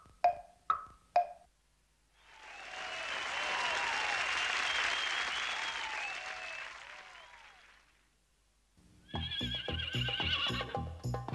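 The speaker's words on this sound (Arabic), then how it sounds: "حصان." A horse whinnies loudly and alone for several seconds, following short clip-clop sounds and preceding rhythmic music, in an Arabic-learning children's program about animals.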